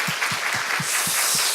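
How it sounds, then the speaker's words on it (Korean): A Sunday worship congregation gives a round of encouraging applause, a dense wash of clapping with a steady beat of low thumps, roughly four per second, running through it. "우리 권사님께 큰 격려의 박수 드릴까요?"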